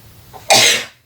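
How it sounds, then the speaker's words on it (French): One sharp, loud sneeze bursts out at close range, lasting about half a second, followed by quiet. "J'ai envie d'éternuer."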